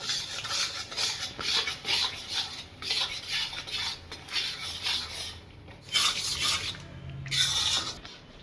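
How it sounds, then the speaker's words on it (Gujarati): A utensil rasps and scrapes steadily in a pan as flour roasts in ghee over a low gas flame for mohanthal, in repeated close stirring strokes with brief pauses and no talking. "હવે એમાં શેકી નાખશું આ લોટ."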